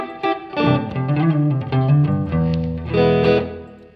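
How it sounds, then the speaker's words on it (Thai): Electric guitar played through a NUX Amp Academy amp simulator with a short, tight plate reverb, chords and single notes ringing with a brief metallic tail, loud and continuous with no talking. "ต่อไปจะเป็นโหมดที่เป็นเพลทอันนี้จะเป็นแบบเป็นเรียกว่าเป็นรีเวิร์บจากแผ่นเหล็กมันจะสั้นๆหน่อย"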